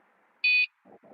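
An inexpensive electronic alarm device sounds one short, loud, buzzy tonal beep, followed by faint low murmurs.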